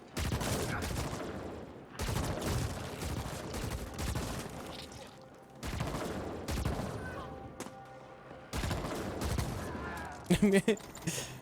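Gunfire from a fast-reloading, high-damage homing weapon in The Ascent, its bullets curving around walls: four long bursts of rapid shots separated by brief pauses, close and steady, with short sharp effects near the end.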